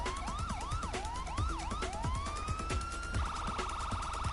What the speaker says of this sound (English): whenever you turn on the sirens, you hold the button and it does different